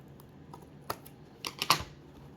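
Scissors snip the overhanging end off a strip of tape on a party favor: a few short, crisp cuts clustered close together, fairly quiet and near, with no talking.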